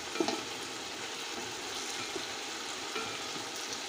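Mutton pulao frying and bubbling in an electric cooker, a steady broadband sizzle with faint soft clicks of boiling, fairly quiet and continuous with no talk.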